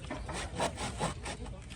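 A hand saw cuts through wood at a 45-degree angle in quick back-and-forth strokes, a rhythmic rasping with about six strokes in under two seconds, close and fairly loud.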